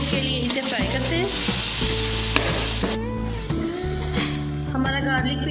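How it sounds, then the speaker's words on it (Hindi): Onions frying and sizzling in a pan for an aloo palak curry base, steady crackle with occasional stirring scrapes, close and continuous, with faint voices in the background. "2 से 3 मिनट के लिए इसे फ्राई करते हैं।"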